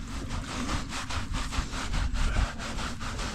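A farm animal rubs its body against wood at a pole barn, giving a steady, rough scraping rasp that repeats in quick strokes, close and continuous without talk.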